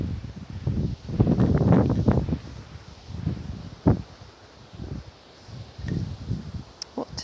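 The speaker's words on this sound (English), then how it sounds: "It's a bit of a wet, windy day today." Gusty wind buffets the microphone in a wet, windy garden, rising in broad rumbling bursts and dropping between them, with faint rustling in the background.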